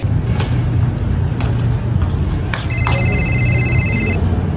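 A telephone rings for an outgoing call: a steady electronic ring tone sounds clearly for over a second over a constant low background hum, preceded by a few faint clicks.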